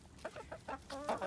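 Adult chickens on a farm cluck softly in a short run of quick calls, fairly close by but quiet, with no talking.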